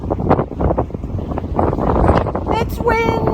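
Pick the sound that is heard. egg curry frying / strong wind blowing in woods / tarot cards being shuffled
strong wind blowing in woods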